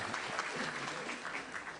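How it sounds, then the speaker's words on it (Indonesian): Audience at a Bali talk show event applauds the students, a steady, even wash of clapping at moderate-low level lasting the whole short stretch with no talk over it. "Tepuk tangan dulu untuk para mahasiswa."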